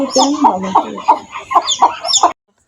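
A hen clucks loudly and close by in a rapid series of sharp, throaty calls, then stops abruptly.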